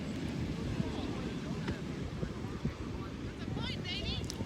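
Wind at the beach buffets the microphone in a steady low rumble and roar, with a faint voice surfacing near the end.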